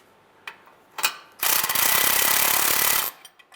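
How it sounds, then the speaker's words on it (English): A ratchet tightens the catalytic converter flange bolts on a 2003-2011 Honda Element: a few faint clicks, then a loud, steady burst of rapid ratcheting for about a second and a half, close up, with no talk. "You're going to want to tighten these down until the shoulder bottoms out on the flange."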